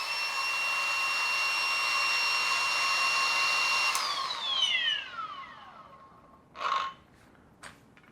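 A Kobalt 24V cordless angle grinder on an 8Ah battery whines steadily at full speed, then spins down after it is switched off, with a few short handling knocks near the end.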